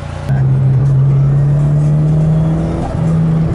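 A turbocharged BMW E30 fitted with an M40 engine heard from inside while driving, a loud steady engine drone holding one pitch, with a brief dip near the end as if shifting.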